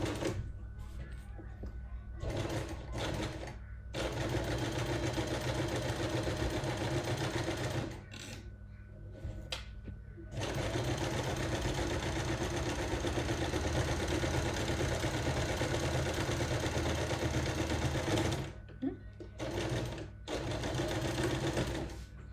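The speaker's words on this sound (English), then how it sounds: "I'm just going to do a second top stitch." A sewing machine runs a second decorative top stitch, a steady mechanical whirring hum in long stretches broken by brief pauses, close and loud.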